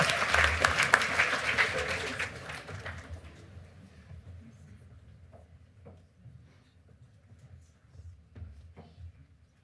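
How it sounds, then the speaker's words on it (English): Audience applause at an awards ceremony, a loud burst of clapping for the first few seconds that quickly fades to scattered claps and quiet room noise with occasional knocks. "Please applaud my effort."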